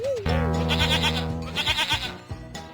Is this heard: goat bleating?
yes